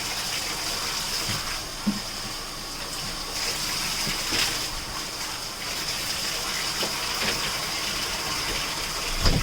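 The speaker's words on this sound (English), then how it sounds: "Let that water run out." Steady broadband rush of water running out in a bathroom during cleaning, constant and fairly close, with a few faint clicks and knocks partway through.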